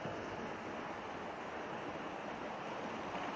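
Steady roar of ocean waves and surf on a sunless water planet in a surfing video game, a continuous broadband wash with wind-like hiss and no distinct breaks, loud and close.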